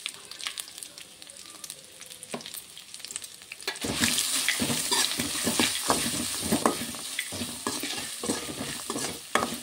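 Cumin and garlic paste with turmeric sizzles in a hot pan, a quieter hiss at first that swells into loud, dense frying with rhythmic scraping stirs, close up and without talk.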